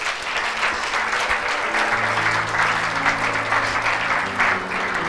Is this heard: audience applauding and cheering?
yes